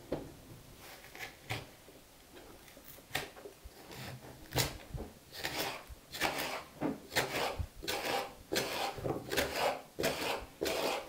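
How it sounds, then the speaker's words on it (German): Rhubarb and strawberries are chopped into small pieces on a board for a cake, giving soft, irregular knife taps and scraping chops at close range, quiet and uneven in rhythm. "Als erstes schneiden wir für unseren Kuchen den Rhabarber und die Erdbeeren klein."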